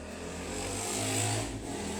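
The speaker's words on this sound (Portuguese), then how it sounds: "Barulho de moto, gente, pelo amor de Deus, isso é o fim do mundo." A motorcycle passes outside with a steady, muffled engine drone that swells briefly near the middle and then fades slightly, heard at a distance through walls.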